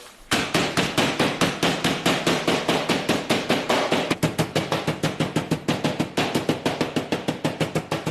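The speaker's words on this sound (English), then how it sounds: "you want to get some sort of beating device to go onto these crackers" A beating device pounds crackers in rapid, evenly spaced loud thumps, dozens of crushing blows in steady rhythm with a short pause partway through.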